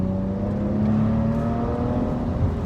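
A Maserati Ghibli SQ4 468hp engine drones steadily under acceleration, a deep, loud, sustained rumble heard from close by.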